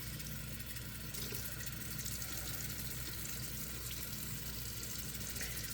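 Very hot tap water runs steadily into a sink as a Barbie doll's hair is wetted, a constant close rushing and splashing that holds at an even level throughout with no talking.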